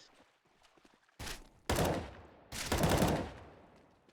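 Gunfire in CS:GO during a Wingman tournament match: several loud, close bursts of rapid shots in quick succession after a quiet stretch, with faint clicks and footsteps between them.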